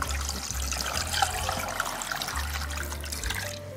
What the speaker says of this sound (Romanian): o să vă spun exact cât lichid pun în vasul multicucărului